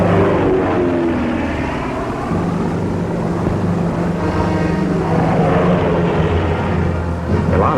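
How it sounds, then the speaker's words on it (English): A loud, steady roar of B-24 bomber engines building as the heavy aircraft speed down a desert runway, continuous and droning without pauses. "177 B-24s speed down the runways on the African desert."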